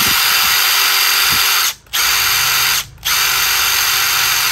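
A Milwaukee or Makita 18V cordless drill with a 4.0 battery runs loud and steady at high speed, cutting out briefly twice before spinning up again.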